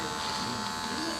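An electric trimmer buzzes steadily and close-up while it cuts through a massive beard, a continuous whirring hum across the whole short span.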